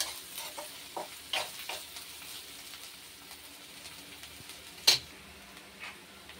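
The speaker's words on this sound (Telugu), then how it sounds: "అల్లం వెల్లుల్లి పేస్ట్ వేసితే ఆనియన్స్ కూడా తొందరగా ఫ్రై అయిపోతాయి" Onions frying in a pan with ginger garlic paste, giving a soft, steady sizzle with intermittent scraping stirs and one sharp clack near the end, close by but fairly quiet, with no voices.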